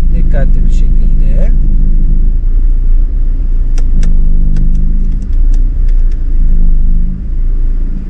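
A car reversing during a driving licence test, its engine a steady low rumble close by with faint clicks and small mechanical sounds, while an instructor talks over it.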